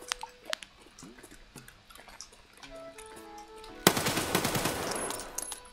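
AK rifle fired while moving in Escape from Tarkov: a sudden loud burst of rapid gunfire erupts after a stretch of quieter ticking and clicking game sounds, continuing densely to the end.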